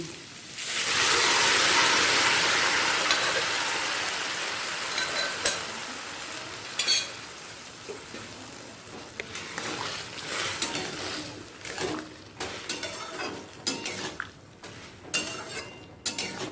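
Boiled potatoes tipped into a hot pan of tomato and spices for a potato curry; a loud sizzle rises at first, then fades into steady frying with repeated scraping stirs of a spoon against the pan.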